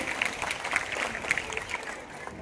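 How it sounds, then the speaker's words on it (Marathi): Applause from the crowd at a girls' school annual gathering and prize distribution ceremony, quiet and somewhat distant, with scattered sharper claps over a steady wash. "तरी सर्वांनी जोरदार टाळ्या वाजवून त्यांचं स्वागत करायचंय"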